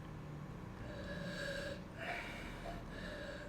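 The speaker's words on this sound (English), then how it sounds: "You put your nose down in there, get a good sniff." A person sniffs box wine from a glass, nose down in the rim, making a few soft, close inhaling breaths in an otherwise quiet room.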